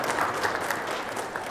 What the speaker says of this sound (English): let's give a round of applause for this great sunshine on the banks of Lake Erie this afternoon.